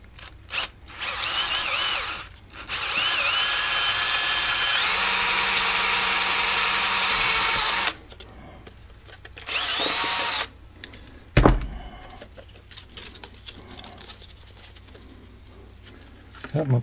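Power drill boring a hole for a plastic bottle wind spinner, loud sustained whirring in two runs, a long one and a shorter one, with a sharp clunk and quieter handling and mechanical sounds between.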